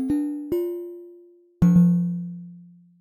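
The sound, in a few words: Ableton Live Corpus resonator ringing out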